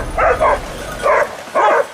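Hunting dogs bark during a wild boar hunt in vineyard country, giving about five sharp, loud barks in quick clusters against a rough outdoor background.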